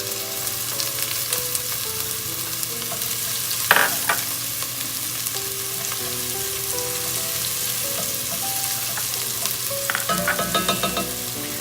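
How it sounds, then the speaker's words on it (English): Chopped onion and minced garlic frying in hot oil in a pan for split pea soup, a steady low sizzle with occasional stirring scrapes and a brief louder clatter near the start, close and alone. "the pan and the oil has heated up. We're gonna do, like I said, 1 full onion chopped up, and then 2 large minced garlic cloves."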